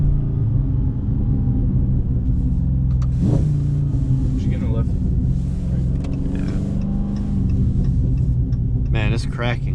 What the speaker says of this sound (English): It's popping in the exhaust.